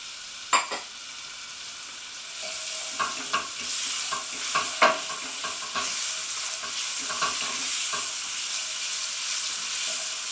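Onions hit a pan and start frying, a broad sizzle rising after a couple of early clanks, with stirring scrapes and knocks recurring over the steady hiss.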